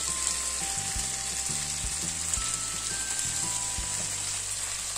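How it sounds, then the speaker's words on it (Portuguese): Leftover marinade, with ginger and garlic in the seasoning, hits browned chicken in a hot pan for Coca-Cola sweet-and-sour chicken, producing a strong, even, continuous sizzle throughout, close and unbroken. "eu vou colocar o caldinho que sobrou no fundo da bacia que eles estavam antes"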